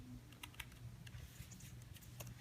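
Steady, rapid typing on a ZAGG Slim Book keyboard case for an iPad Air 2, light plastic clicks and taps, continuous and close, over a faint low hum; no voices.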